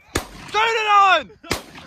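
Two sharp shotgun blasts from an evening goose hunt, loud and close, separated by a long honking goose call in between; the shots ring out clearly against the open air.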